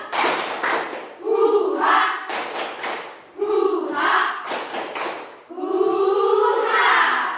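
A classroom of students performing a rhythmic spirit clap, bursts of sharp clapping and thumps alternating with shouted group chants in a repeating pattern, loud and close.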